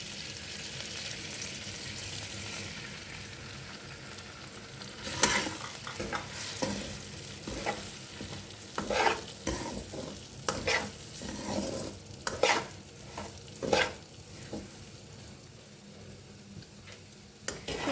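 Semolina roasts in ghee in a kadhai, giving a soft, low crackle under frequent scraping strokes of a spoon against the metal pan, irregular and close.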